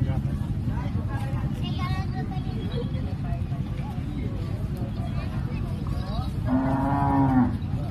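At a farm produce market exhibition, cattle low near the end with a single deep, drawn-out moo over a steady crowd murmur and people talking close by.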